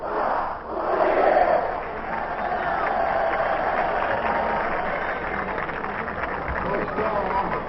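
A Notre Dame crowd cheers at a 1938 football game against Illinois, a broad, distant roar of many voices that swells early and then holds steady in an old, band-limited broadcast recording.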